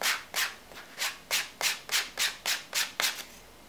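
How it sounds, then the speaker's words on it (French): A sanding block rubs across a leather pouch in about eleven even, rhythmic strokes, each a close, soft rasping swipe separated by short gaps. "on va poncer un petit peu avec notre poncette"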